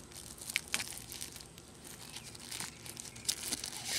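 Crinkling plastic wrapping torn open from the top of a Honda oil filter, with irregular sharp crackles and rips close by, a few louder bursts, no talking.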